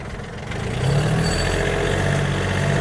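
A Yanmar US-31D mini tractor's engine hums steadily as the machine drives and turns, a close, even drone that thickens and grows slightly louder partway through and then holds.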